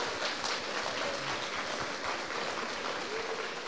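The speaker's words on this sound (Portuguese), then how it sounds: "Pode dar uma salva de palmas ao Senhor." Congregation applause at a church worship service, a steady, dense wash of clapping filling the room for several seconds, fairly loud and continuous without talk over it.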